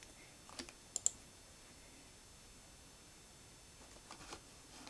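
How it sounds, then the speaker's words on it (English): Arrow keys on a computer keyboard tapped in a few quick clusters, faint and close, with soft clicks separated by quiet pauses and no talking. "I can then tweak it just using the arrow keys on their own."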